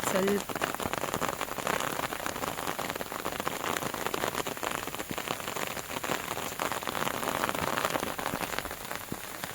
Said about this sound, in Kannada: ಗಾಯ್ಸ್ ಫೈನಲಿ ಮಳೆ ಸ್ಟಾರ್ಟ್ ಆಗಿಬಿಟ್ಟಿದೆ